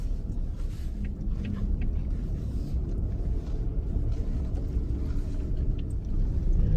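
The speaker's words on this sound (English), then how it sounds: "I got the truck locked into four-wheel drive." Low steady rumble of a truck engine driving along in four-wheel drive on a winter road, continuous and muffled, with no voices.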